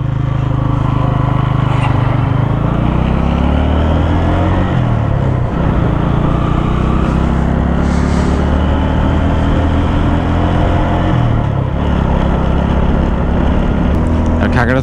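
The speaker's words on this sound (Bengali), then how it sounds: "এই যে আসতেছে ট্রলার" A motor trawler boat on a river, a loud, steady engine drone with a low throbbing hum that continues unbroken, mixed with wind noise and faint speech.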